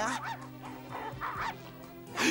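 Cartoon dog barking in a Smurfs episode, a series of yappy barks and whimpering yips close up over a music bed.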